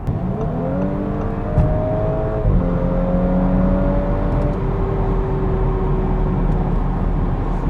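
An Audi S4 B9 engine revs under throttle, a few rising pulls with gear-like steps, heard close over a steady rumble.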